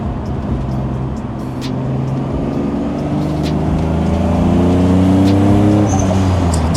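A boosted Nissan Z pulling hard on the Autobahn, its engine note rising steadily through the gears with a brief dip at a shift, loud and continuous over road and wind noise.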